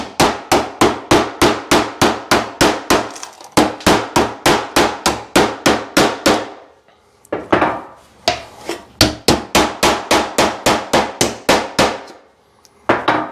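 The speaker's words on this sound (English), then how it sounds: "we're gonna keep hammering away at this" A hammer pounds sheet metal on a car body in fast, even runs of sharp ringing blows. The runs break off briefly and start again, close and loud with no talk.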